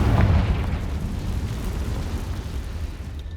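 Confringo blasting spell from Hogwarts Legacy erupts in a loud, deep explosion at the start, then rolls on as a sustained low rumble that slowly fades over a few seconds.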